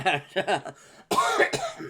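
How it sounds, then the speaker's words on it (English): Two rough, bursting coughs from a nearby person, each broken into short harsh pulses, following a moment of speech-like voice. "I will still be coughing along the way"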